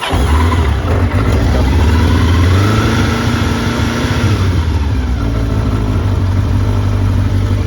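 A 1985 Kawasaki GPZ 750 motorcycle engine runs loud and close on half choke, holding a steady rumbling idle with a slight rise and fall in revs, with no talk over it.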